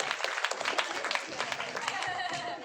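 Children clap together in a burst of applause that carries on evenly throughout, with voices mixed in among the claps.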